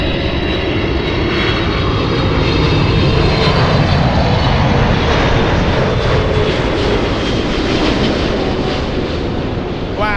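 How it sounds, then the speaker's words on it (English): A FedEx freighter jet at LAX airport roars steadily and loudly throughout, a dense broadband engine rumble with a high whine on top, close by and sustained with no voices. "Oh wow, FedEx Freighter."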